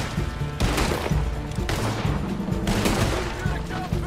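Loud bursts of explosive-bullet gunfire in Red Dead Redemption 2 with a modded trainer, several heavy booming shots in quick succession with short gaps between volleys, close and dense.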